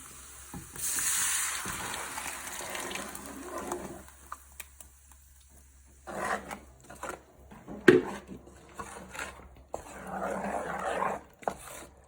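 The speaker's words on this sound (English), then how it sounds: "I'll just add in my blended plum tomatoes, ginger, garlic, and onion, and scotch bonnet." Blended plum tomatoes, ginger, garlic, onion and scotch bonnet hit a hot pot for jollof stew, giving a loud burst of sizzling that fades, then returns in bursts with stirring clatter and a short clank.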